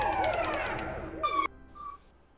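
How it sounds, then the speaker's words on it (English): An alarm siren wails in the Star Wars: Squadrons video game, a rising and falling electronic tone that cuts off abruptly partway through, followed by brief beeping tones at moderate level. "Yeah, that siren is awful."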